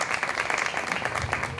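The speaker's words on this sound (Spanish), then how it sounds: "Un fuerte aplauso para Tania." Strong, dense applause from an audience at the TU-Night 2020 final gala, greeting the actress and singer Tania; the clapping is steady and close, filling the whole moment with little sign of talk.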